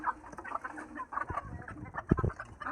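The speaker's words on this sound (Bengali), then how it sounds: "ওই যে খাইতে আছে মুরগি" Chickens cluck and squawk while feeding, a lively cluster of short calls close by with scratching and pecking sounds underneath.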